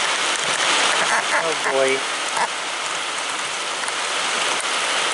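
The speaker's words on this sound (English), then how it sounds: "It doesn't look like it's gonna do much rain because it's sunny right there." Steady rain pours down outdoors at a kiln site, a broad continuous hiss that fills the whole clip, with a person speaking briefly partway through.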